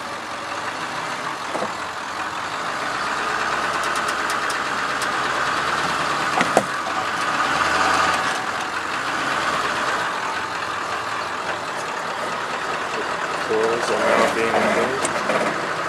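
A Ford F450 Centurion wrecker runs its diesel engine steadily while lifting a car during a repossession, with a constant rumbling idle, hydraulic whine and occasional clanks close by.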